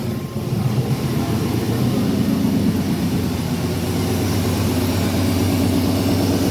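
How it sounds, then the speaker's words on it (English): A big long black truck's engine idles steadily and loudly up close, a deep continuous rumble with no pauses or voices throughout. "let's start this truck engine, because it's actually running pretty damn good"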